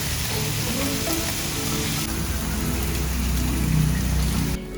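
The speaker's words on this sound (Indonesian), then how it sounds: "Dagingnya sengaja dimasak pada saat kita pesan biar tetap hangat begitu sampai di tangan kita." Korean barbeque short plate meat sizzling loudly and steadily at a food stall, a dense close-up crackle like heavy rain that runs without a pause and drops off abruptly at the end.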